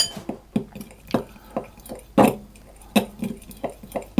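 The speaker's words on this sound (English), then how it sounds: "I'm going to put the baking powder and the salt into the flour, and I just give that a stir around" A utensil stirring baking powder and salt into flour in a bowl, producing irregular close scraping knocks and light clinks against the bowl.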